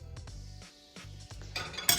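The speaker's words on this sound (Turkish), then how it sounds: "Kirli bulaşıklarımı yerleştiriyorum." Dirty dishes, pots and cutlery are loaded into a home dishwasher, giving close, irregular clinks and clatters of ceramic and metal, with a sharper cluster of clinks at the end.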